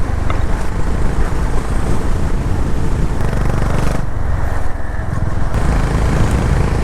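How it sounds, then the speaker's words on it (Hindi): A Honda CB350 motorcycle riding at speed on a smooth, flat tarmac mountain road, its low steady engine thump running under heavy wind rush throughout. "इसका जो थम्पी साउंड है बहुत ही बेहतरीन लगता है"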